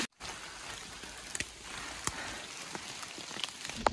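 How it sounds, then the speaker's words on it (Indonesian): Heavy rain pours steadily on a mountain hiking trail on Mount Lawu, a dense constant hiss with scattered louder drop impacts and no voices, close and enveloping. "lumayan deras hujannya"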